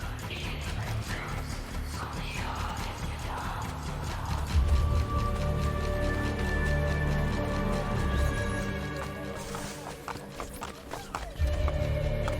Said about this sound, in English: One horsey.